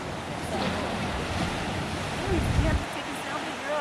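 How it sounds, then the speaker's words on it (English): Surf rolling onto a freshwater lake beach in Michigan, a steady broad wash of breaking waves with wind buffeting the microphone and a louder surge near the middle, with faint voices underneath. "So they can get waves this big, so you can still swim and stuff"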